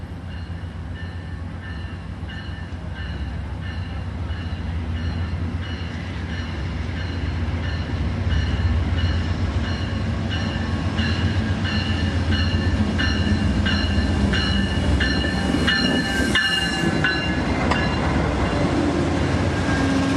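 Train easing slowly over a trestle into San Luis Obispo, wheels clicking in a steady rhythm over rail joints with a low rumble and brief squeals, heard from on board and growing slightly louder.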